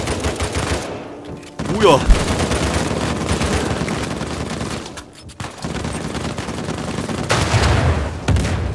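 Gunfire from a weapon in the video game Uncharted 4 rattles out in sustained, loud bursts, broken by a couple of brief pauses. Someone speaks briefly over the shooting.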